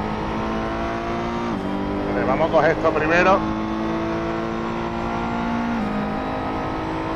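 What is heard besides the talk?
car engine in a VR driving video game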